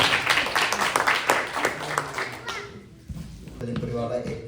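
A church congregation at a Sunday service breaks into loud, sustained applause for a couple of seconds, the clapping thinning as a voice begins speaking over the room.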